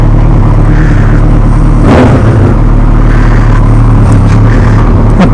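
A 1200 motorcycle engine idling after a cold start gives a loud, steady mechanical drone at close range, with a brief rise in noise partway through.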